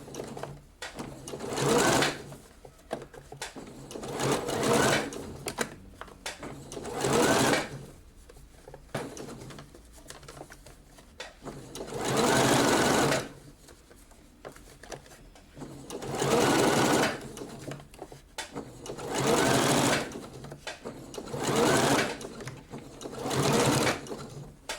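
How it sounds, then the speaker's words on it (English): A sewing machine understitches a seam allowance on a lace sleeve in bursts of rapid mechanical whirring, about eight runs separated by short pauses and handling noises. "And then you stitch your seam allowance to the seam."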